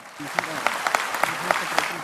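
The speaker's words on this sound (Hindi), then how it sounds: "जोरदार तालियों से स्वागत।" An audience at a Dhamma Vijay Divas gathering in Delhi NCR applauds to welcome a guest, with scattered sharp claps over a steady patter while a voice talks over it.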